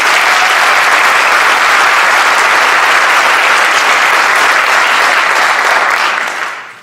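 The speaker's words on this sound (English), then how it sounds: "could you give them a round of applause?" An audience at a school board meeting applauds retiring staff with sustained, dense clapping that stays loud and even for several seconds before tapering off at the end.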